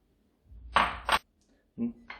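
Tuna dropped into a bowl of drained pasta for a quick tuna and cranberry salad: two close, bright clinks and a scrape of a utensil against the bowl, then a brief spoken word.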